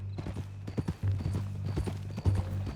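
Horse hooves clip-clop in a steady trotting rhythm while riding in the Red Dead Redemption 2 video game, close and clear over a low rumbling drone, with occasional tack rattles and no speech.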